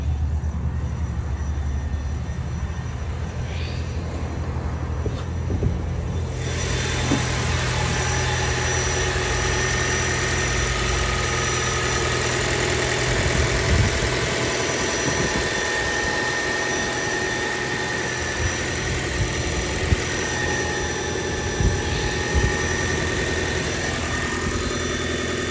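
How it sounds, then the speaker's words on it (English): Car engine idling with the hood open, a steady low rumble with a constant mechanical hum that holds evenly and close throughout, with faint clicks and a brighter hiss entering after the first few seconds. "Finally got it to turn over by stepping on the gas. Nice low idle."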